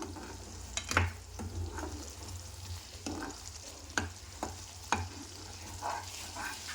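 Masala for a lotus seed (makhana) curry fries in a pan, a low continuous sizzle broken by intermittent scraping stirs and clicks of a spoon against the pan.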